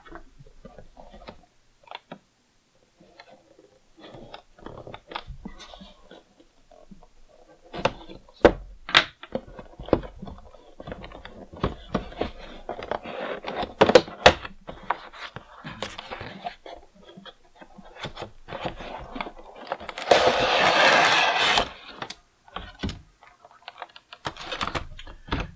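A GI Joe 50th Anniversary M.A.S.S. Device toy is unboxed, with close crinkling, rustling and tapping of its packaging in irregular bursts, then a louder stretch of plastic crackle near the end.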